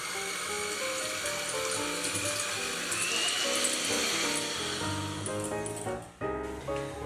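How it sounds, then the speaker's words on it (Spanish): An electric hand mixer with whisk beaters beats chocolate muffin batter made with milk soured by lemon juice. It gives a steady, moderately faint whirring drone, with a brief dip near the end. "ahora todo esto lo vamos a batir con las varillas eléctricas"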